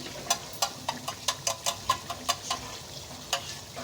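Yogurt going into fried masala and potato slices in a pan, a quiet sizzle under rhythmic stirring taps of a spoon, about ten evenly spaced knocks followed by a brief pause and one more.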